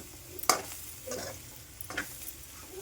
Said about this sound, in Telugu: మనం కలుపుకుందాం ఇప్పుడు.